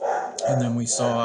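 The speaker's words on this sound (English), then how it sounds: "I apologize for my dog barking there." Dog barking at a delivery person, a few short barks mixed in with someone talking over them, close and fairly loud.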